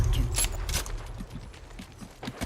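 Enemy footsteps in Apex Legends, a quick series of soft thudding steps close behind the player, mixed with game noise and low rumble.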